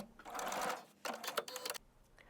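A sewing machine stitches a hem on a jacket, whirring in two close bursts separated by a short pause, with no talk.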